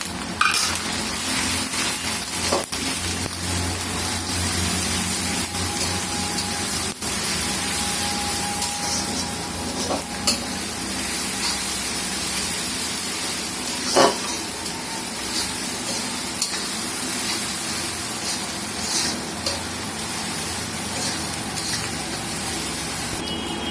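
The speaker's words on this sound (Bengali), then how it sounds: "এখন এটাকে আমি সুন্দর করে ভেজে নেব।" Garlic and ginger paste fries in a pan with a continuous bright hiss of sizzling oil, close and steady, broken now and then by faint clicks of a utensil and no talking.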